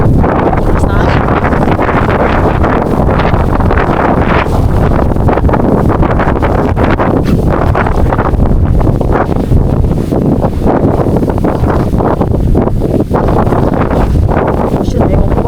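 Strong wind on an island roars steadily into the microphone, a constant loud buffeting rumble with gusty rustling throughout.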